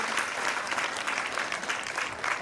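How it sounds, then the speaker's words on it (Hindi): Steady, dense audience applause fills the whole stretch for a theatre play's director, with no voices rising above the clapping. "एक बार जोरदार तालियां हो जाए उनके लिए"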